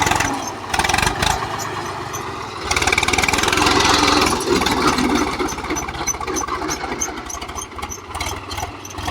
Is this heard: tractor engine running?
yes